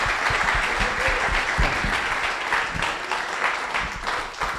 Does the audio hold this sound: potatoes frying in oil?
no